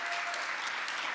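Audience applause at a panel event on building a global sports nation, a steady dense wash of clapping filling the short moment without any voices.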